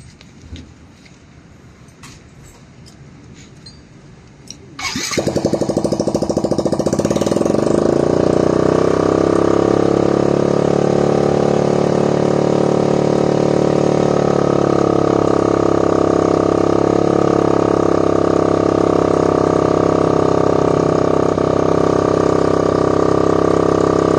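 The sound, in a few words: motorcycle engine running to check wheel alignment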